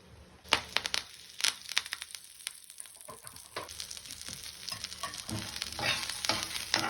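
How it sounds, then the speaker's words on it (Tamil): Onions, tomatoes and curry leaves sizzle and crackle in a hot pan of oil while being stirred for Chettinad chicken gravy, with irregular scraping and popping bursts throughout. "இது எல்லாத்தையும் வதக்கணும்."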